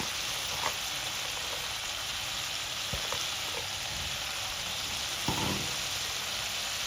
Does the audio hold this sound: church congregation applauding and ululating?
no